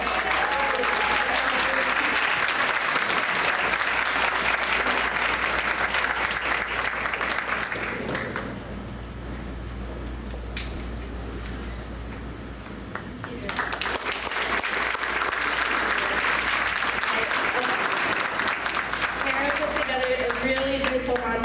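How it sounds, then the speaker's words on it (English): Audience applause at a school board regular action meeting, a steady loud wash of clapping from a seated crowd that dips quieter midway, then swells again before fading out. "come up for a quick round of applause"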